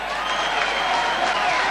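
A rugby league crowd at a St Helens match applauds a substitution, a broad wash of clapping from many hands mixed with a few faint cheers, steady and distant throughout.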